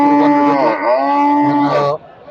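A single head of cattle at a rural livestock market in Bangladesh lets out a loud, long moo close by, the drawn-out call holding for nearly two seconds before breaking off.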